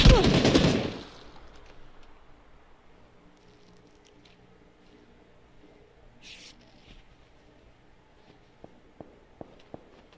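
Gunfire in PUBG on console: a loud burst of rapid shots at the start, then quiet ambience with a few faint, sharp clicks near the end.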